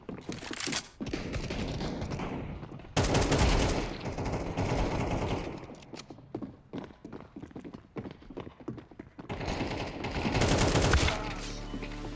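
Rapid bursts of gunfire from a shooting video game, loud and continuous with brief pauses between volleys, no voices.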